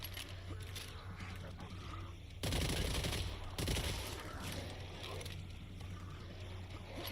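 Gunfire in the video game Killing Floor 3 comes as a dense, loud burst of rapid shots for about a second, then a second burst. A faint background hum and game noise run between them.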